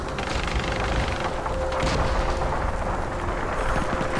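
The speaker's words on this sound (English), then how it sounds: "Zeroing in mortars." Mortar fire in ARMA 3 during a Normandy battle, a dense continuous rumble of distant booms and blasts with a steady tone running underneath and no clear single impacts.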